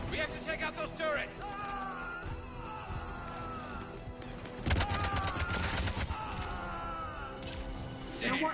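Turret gunfire in the video game Mass Effect Legendary Edition, with bursts of rapid shots and crashing impacts over a driving music score, and characters shouting orders in between.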